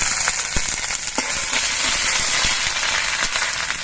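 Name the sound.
ginger paste frying in oil for bottle gourd shukto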